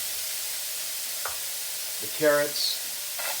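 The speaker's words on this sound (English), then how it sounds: "This is a little cured pork shoulder. We're just going to get it sweating here." A cured pork shoulder sweats in a hot pan for fried rice, giving a steady, even sizzle that hisses throughout, with a couple of faint clinks and a brief tonal squeak over it.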